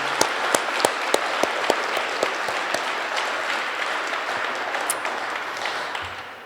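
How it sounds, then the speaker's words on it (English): A small audience at a helicopter welcoming event in Grande Prairie claps for Noah, steady, moderate applause with a few sharp, regularly spaced louder claps near the front, tapering off toward the end. "should we just all, a little round of applause again for Noah?"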